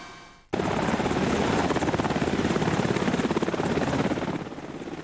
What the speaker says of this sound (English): Some people were rescued by helicopter.